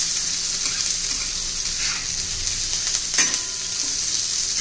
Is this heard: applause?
no